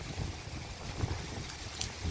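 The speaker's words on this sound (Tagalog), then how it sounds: "Lakas ng hangin." Steady sea wind at a seaside in Al Khobar, Saudi Arabia, buffets the microphone with low rumbling gusts, a constant outdoor roar with brief stronger bursts and no voices.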